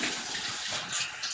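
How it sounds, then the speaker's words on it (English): Tap water runs into a kitchen sink as hands are rinsed, a steady close splashing hiss lasting just over a second with no voices. "let me rinse my hands."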